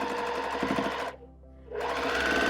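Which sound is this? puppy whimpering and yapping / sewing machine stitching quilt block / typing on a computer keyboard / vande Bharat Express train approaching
sewing machine stitching quilt block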